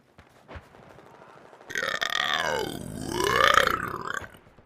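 A man lets out one long, loud, growling burp that swells, dips and swells again over a couple of seconds, preceded by quieter background sounds.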